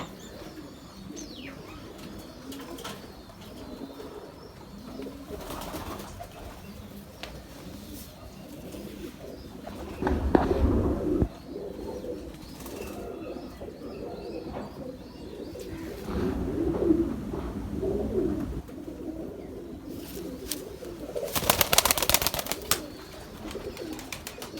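Large grey pigeons coo in a loft in Sialkot, soft throaty repeated calls blending with chirps and occasional wing flaps, fairly close over a steady background with no clear talking.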